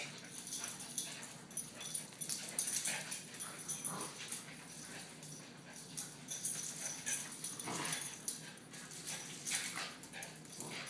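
Puppies whimper, wheeze and give small yips, close by but faint, in a steady, restless stream with no talking.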